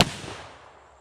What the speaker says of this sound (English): And we're going to shoot the 1860 first.